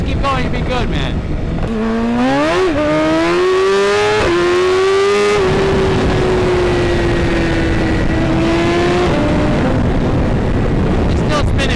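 BMW S1000RR stretched sport motorcycle at full throttle with the rear tire spinning, the engine screaming loud and steady as its pitch climbs in steps and then holds high, with someone talking over it.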